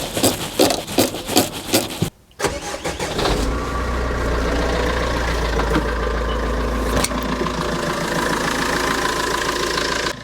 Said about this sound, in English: then we're gonna start the engine and see what happens